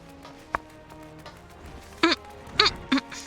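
Short quacks from a duck in the video game Final Fantasy XIV, three or four brief nasal calls in the second half, the last ones close together, over a low game background.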